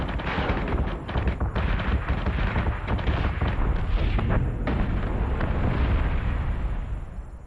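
Space battle in the Battlestar Galactica Deadlock video game: loud, continuous booming explosions and weapons fire rumble and crackle in dense overlapping bursts for several seconds, with no talking.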